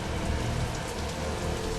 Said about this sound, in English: The caustic rain poisons groundwater.